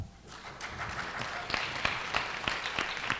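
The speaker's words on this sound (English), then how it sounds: "Applause, please." Scattered applause from a panel audience at a health care policy event on immigrant families, individual claps standing out distinctly against a quiet room, moderately faint and growing slightly denser.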